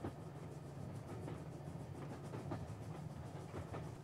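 Train running along a railway track in the video game Yurukill, a faint steady rumble with soft rhythmic clatter of wheels, continuous and without voices.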